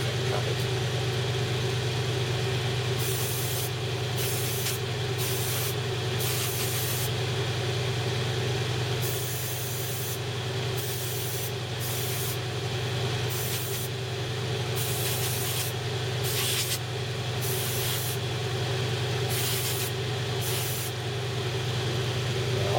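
A spray can lays primer on a Bandai Halo Master Chief model kit in repeated short hissing bursts, heard close. A steady low hum runs underneath and no one talks.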